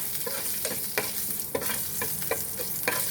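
Oil tempering with asafoetida sizzles steadily in a pan, a continuous close hiss broken by regular spoon scrapes and stirring clicks, with no talking.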